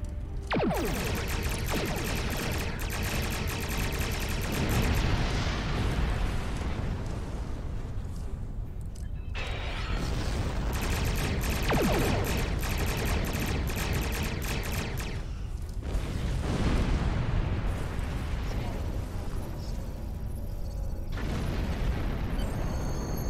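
Weapons fire and explosions tear apart weapons platforms in the Star Trek Online space game, a dense, loud, continuous barrage of blasts and bursts with brief lulls between volleys.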